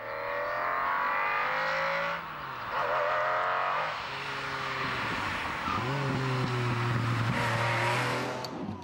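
A Lamborghini Diablo sports car's engine roars up through its gears, loud and close, with repeated rising revs, brief dips at each shift and a sustained high-pitched wail as it accelerates.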